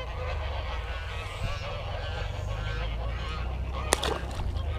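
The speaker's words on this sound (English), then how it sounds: "Now the geese are freaking out." Geese honking and calling beside water during a fishing outing, a steady busy layer of wild calls with a short sharper cry near the end, under constant low outdoor rumble.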